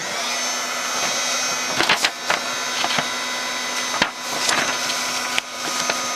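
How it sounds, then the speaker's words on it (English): Heat gun blowing on PolyShrink plastic, a steady loud roaring hiss throughout with a few knocks and handling clicks over it. "I'm gonna hit my heat gun."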